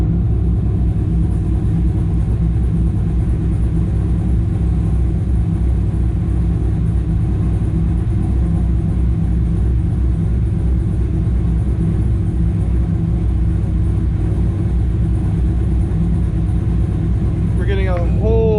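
A supercharged Corvette engine runs in drive with misfires, a loud, continuous low rumble with uneven stumbling pulses close to the microphone, and a brief sweeping whine near the end.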